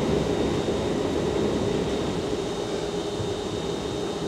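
A ScotRail passenger train running between Haymarket and Edinburgh, heard from inside the carriage as a steady droning rumble with a faint high whine, unbroken and fairly quiet, with no talking.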